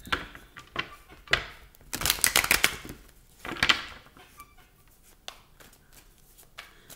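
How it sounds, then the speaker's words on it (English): A deck of tarot cards being shuffled by hand, with irregular bursts of riffling and flicking, loudest in a dense flurry midway, then scattered softer taps, close to the microphone with no talk. "I'm gonna shuffle up a few more times"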